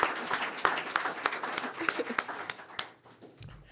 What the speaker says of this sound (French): Je veux nous applaudir.